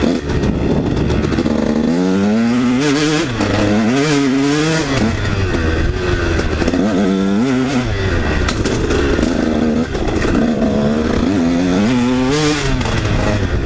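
A KTM 150 dirt bike rides through mud, its engine loud and close, repeatedly revving up and easing off in a rising and falling whine.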